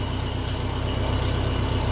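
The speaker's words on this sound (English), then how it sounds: "as far as the exhaust sound goes, it sounds nicely baffled" A 1957 Ferguson 35 tractor running on TVO idles steadily through a baffled, silenced exhaust, giving a close, continuous low throb with an even, rapid pulse and no voices.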